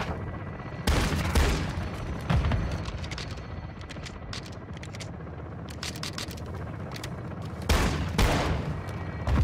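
Bursts of belt-fed machine gun fire in Call of Duty Modern Warfare 2, sharp rapid crackling volleys, heavier near the start and close to the end, with scattered distant shots in between.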